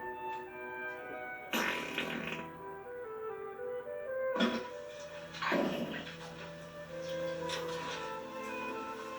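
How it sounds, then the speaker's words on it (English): Loud flatulence in a comedy sketch, heard as several separate blasts of varying length over a low steady background hum, with no talking. "I don't always fart, but when I do, I try to make it loud."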